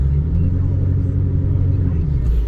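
A 2004 Ford Excursion in four-wheel drive rumbles low and steady from inside the cab through a brief turn, its engine droning evenly and close.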